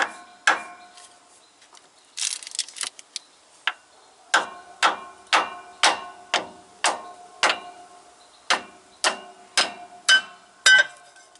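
Light metallic hammer taps on an International DT360 engine timing cover repeat at a steady pace, each one a crisp, close knock that rings briefly, with a short irregular cluster partway through.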